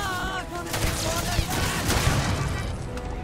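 Gunfire from a Starfield battle against turrets rattles in dense, overlapping bursts, sharp reports over constant combat noise, with a voice talking throughout.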